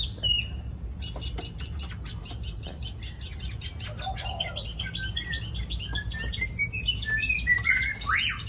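Caged hwamei songbird kept at home and set down on the floor, chirping in quick bright notes and rising warbled phrases that grow busier toward the end, heard close over a low steady background hum.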